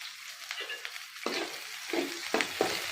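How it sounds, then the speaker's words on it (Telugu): Onion pieces and green chillies fry in hot oil on a gas stove, a steady soft sizzle broken by several sharp scraping stirs of a spoon against the pan. "ఇందులో ఉల్లిపాయ ముక్కలు వేసుకున్నాను."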